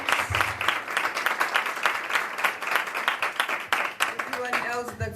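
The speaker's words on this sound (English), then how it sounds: "Another round of applause." Audience applause at a university faculty research day for a student presenter, brisk, dense clapping from a room of people throughout, with a voice speaking over it near the end.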